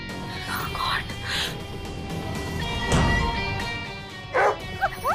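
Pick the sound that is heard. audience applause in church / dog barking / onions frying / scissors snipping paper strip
dog barking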